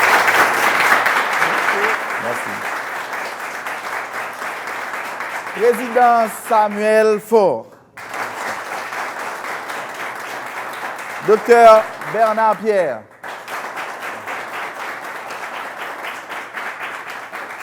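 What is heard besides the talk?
audience applause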